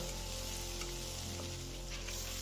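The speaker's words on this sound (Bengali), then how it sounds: "এবার ভালো করে আমি নাড়াচাড়া করে নেব" Grated ginger and green chili frying in ghee over a medium gas flame, stirred: a steady, close sizzle with a low hum underneath, continuous with no talking.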